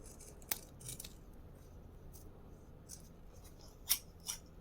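An old pair of scissors nicking small notches into fabric or material, giving a few sharp, quiet snips spaced apart, with two crisp cuts close together near the end, in an otherwise quiet room.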